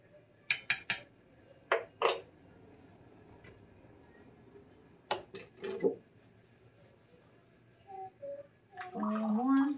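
A spoon clinks and scrapes against a glass or pot while Moroccan tea is stirred, sharp metallic taps in short clusters with pauses between them, close by, with some gurgling pouring toward the end.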